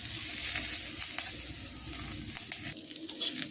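Chopped capsicum stirred and frying in a pan, a continuous bright sizzle with intermittent scraping clicks of the spoon, close and alone.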